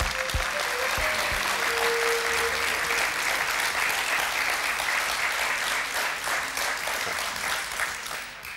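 An audience claps steadily for a woman named Zuhal as she walks on stage, a dense, even round of applause that holds for several seconds and eases slightly at the close.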